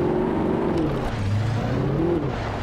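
A car engine in the video game Alan Wake hums and drones steadily, a low wavering tone with slight rises in pitch throughout, alone without speech.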